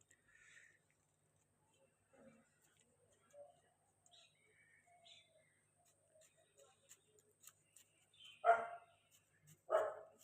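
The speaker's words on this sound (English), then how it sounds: "Well, that's my neighbor's dog." A neighbor's dog barks twice in the distance near the end, faint and outdoors, after a long stretch of quiet with soft ticking and scattered bird chirps.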